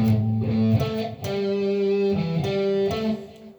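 A distorted electric guitar plays a bluesy Texas rock riff in A, sustained notes with bends and slight wobble, loud and close, no voices.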